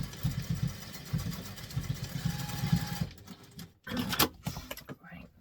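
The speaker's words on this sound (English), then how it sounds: "It's just to keep it in place whilst we sew the rest of the gusset." Sewing machine stitching a fabric gusset, a steady rapid mechanical whirring and tapping for about three seconds, then stopping, followed by a few scattered handling sounds.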